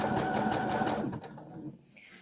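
A sewing machine stitches picot elastic onto the leg edge of knickers, running in a close, steady whir for about a second before slowing and stopping.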